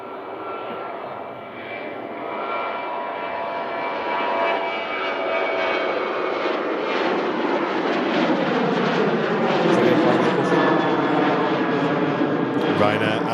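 A Ryanair airliner departs Manchester Airport, its jet engines swelling from a distant roar into a loud, sustained rumble over about thirteen seconds as people chat in the background.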